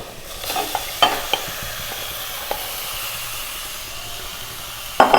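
Marinated chicken goes into a hot pan of sautéed onions, sizzling in a steady, close hiss, with a few scraping clicks of a spatula as the mixture is stirred and no voices.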